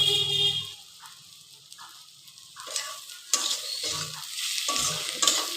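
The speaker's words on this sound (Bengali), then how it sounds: "ভালো করে কষিয়ে নিলাম" Bhola fish curry masala with ground green chilli being sautéed and stirred in a pan, a scraping, sizzling cook that grows busier and louder in the second half, with clinks of a utensil against the pot and no talk.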